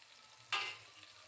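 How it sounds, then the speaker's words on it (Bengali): A single short sizzle flares up briefly in a pan of ginger-garlic paste with chopped tomato, chilli powder, turmeric and salt being sautéed, then fades back to a faint low hum. "এবার ভালো করে মশলাটাকে কষিয়ে নেব।"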